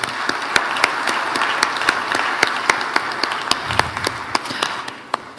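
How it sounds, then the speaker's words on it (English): Audience applause at the close of a panel session at an African heads-of-state energy summit in Tanzania, steady and fairly loud with sharp individual claps standing out throughout. "give each of the panelists one last round of applause"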